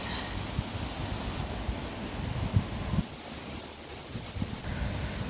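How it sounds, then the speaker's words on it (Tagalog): Strong cold wind buffets the microphone outdoors on a walk in Malmö, a steady broad roar with irregular low thumps and gusts, no talking. "Malakas ang hangin, ang lamig."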